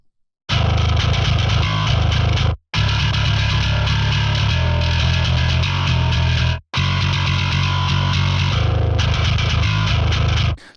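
A MIDI-programmed bass tone, shaped with surgical EQ cuts to remove honky frequencies and a small top-end boost, plays loud, heavy sustained phrases with two brief silent gaps between them.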